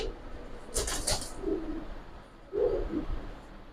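Giribaz pigeons give a few soft, low coos close by, with a burst of wing flapping or rustling early on, in a quiet loft setting.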